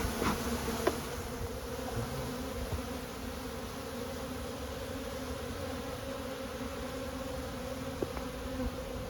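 Honey bees swarm around opened hives, a dense, constant buzzing hum that fills the space close by, with a few faint knocks of hive equipment.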